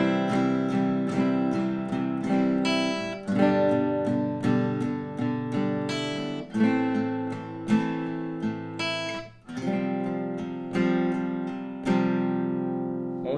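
Acoustic guitar plays the intro line of a song, with clear strummed downstrokes ringing out in repeated chord groups, close and solo.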